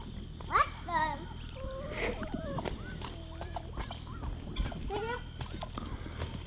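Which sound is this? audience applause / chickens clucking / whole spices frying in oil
chickens clucking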